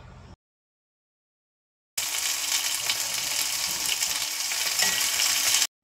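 Sweet and sour pork with cucumber stir-frying in a pan, a loud steady sizzle lasting several seconds after a short silent gap.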